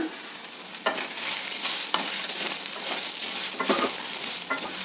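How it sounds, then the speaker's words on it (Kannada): Curry leaves and Byadgi chillies sizzle and crackle in hot oil in a pan while being stirred, a steady frying hiss close up with occasional louder spattering bursts and no talk. "ಈಗ ಕರಿಬೇವಿನ ಸೊಪ್ಪು ಹಾಕ್ತೀನಿ ಸ್ವಲ್ಪ ಐದು ಆರು ಬ್ಯಾಡಗಿ ಮೆಣಸಿನ್ಕಾಯಿ ಹಾಕ್ತೀನಿ"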